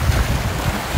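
Rough, stormy sea by a seaside home in Denmark roars in a dense, continuous wash of crashing surf, mixed with heavy wind buffeting the microphone.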